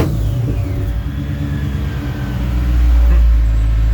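A Mercedes W211 E55 AMG engine running close by, a deep steady idle rumble that swells into a heavier, louder rev in the final second or so.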